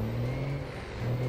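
A truck accelerating in GTA 5, a steady, fairly quiet engine drone with a low hum that holds throughout, heard alone without talk.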